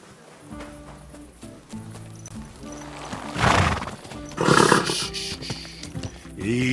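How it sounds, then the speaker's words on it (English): A horse in the Kingdom Come Deliverance II video game whinnies loudly in two bursts while hooves clip-clop steadily nearby, set against a low game background. "Easy, good horse."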